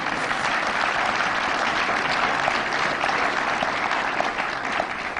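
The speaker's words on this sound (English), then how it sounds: "I think that's a good one to clap to." Sustained applause from a seated audience at a political speech, a dense steady wash of clapping that fills the whole stretch at even loudness with no voice over it.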